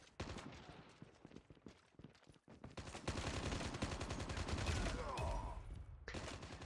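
Rapid automatic gunfire from Call of Duty Mobile, played with keyboard and mouse, with dense bursts and a few brief pauses as shots crack loud and close throughout.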